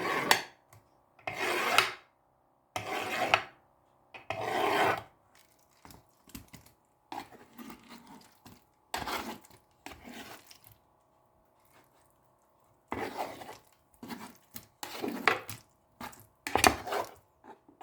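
Repeated bursts of soft cutting and scraping as set gelatine is sliced into pieces for a buko pandan dessert, each stroke a short rasping swipe with quiet pauses between, close and fairly faint.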